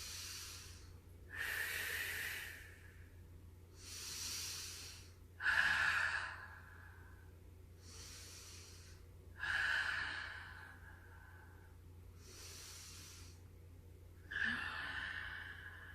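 Slow, deliberate breaths, in through the nose and out through the mouth, come close to the mic during a yin yoga session. About four full cycles repeat at an even pace over a low background hum.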